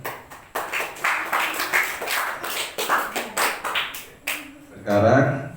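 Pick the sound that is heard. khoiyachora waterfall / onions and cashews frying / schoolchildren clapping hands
schoolchildren clapping hands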